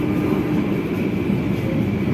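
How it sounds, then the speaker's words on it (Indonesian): Steady low rumble of the Manahan executive passenger train's wheels rolling on rails between Jogja stops, heard from inside the carriage, loud and continuous with a faint metallic hum and a slightly bumpy rear wheel. "kedengeran kayak roda di bagian belakang tuh agak benjol sedikit"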